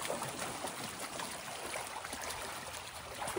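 A river stream flows and trickles steadily at low level, a continuous gentle watery rush heard from nearby with no voices.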